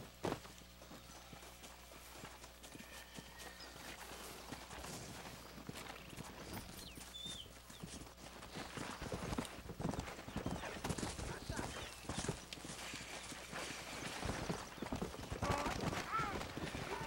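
Horse hooves clip-clop steadily in Red Dead Redemption free roam, quickening and growing louder over time, with an occasional whinny and faint voices in the background.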